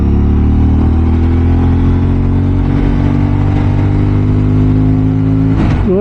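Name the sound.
vehicle engine accelerating on a mountain road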